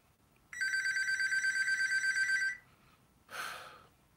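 A mobile phone ringtone trills steadily for about two seconds during a Las Vegas Stadium Authority board meeting, a bright electronic warble, then stops, followed by a short burst of noise.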